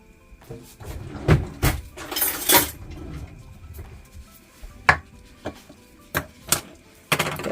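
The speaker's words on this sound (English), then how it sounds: "let's cut the top off" Knife cutting the tops off fresh produce on a board while preparing a healthy drink, giving a series of sharp, close chopping knocks with quieter gaps, some clinking, and no voice.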